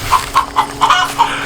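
Backyard chickens cluck in short, repeated bursts, about eight quick clucks in a steady rhythm, close and clear with no talking over them.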